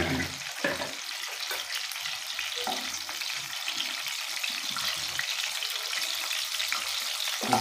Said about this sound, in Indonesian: Aduk-aduk agar si daun singkongnya itu matang lebih rata.